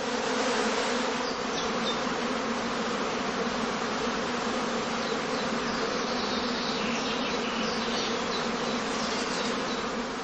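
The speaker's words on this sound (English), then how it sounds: "In a large home apiary like this one, several swarms may emerge almost simultaneously." Honeybees swarming from skeps in a large heathland apiary, a dense, loud, continuous buzzing drone of many insects that holds steady throughout with no talk.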